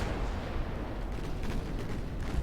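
In the Ultimate Admiral Dreadnoughts naval game a torpedo strikes the ship Juno, producing a steady, dense rumble of blasts and gunfire with no clear pauses.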